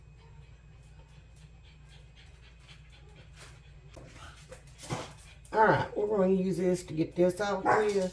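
Dogs bark and whine at a cat outside near an open front door, with sharp barks and yelps growing loud in the second half while a person talks in a home kitchen.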